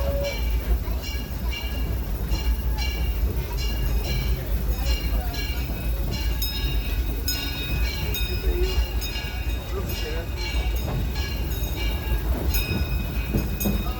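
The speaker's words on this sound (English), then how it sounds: "The train is in motion." A Disneyland Railroad steam train rumbles steadily along with a constant low roar and repeated rhythmic clacking, heard close and loud throughout.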